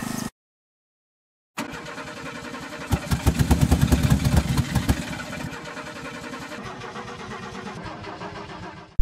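A 1959 Case 300B tractor left outside starts after a brief pause: a loud cranking with rapid rhythmic pulses, then the engine catches and settles into a steady, fairly close idle with no talk.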